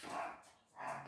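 A small, healthy female dog barks twice in quick succession nearby, each bark short and clear with a brief pause between, no talking.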